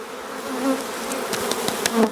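Honey bees from an opened hive colony drone in a steady, close buzz with brief louder swells of individual bees passing near, no voices.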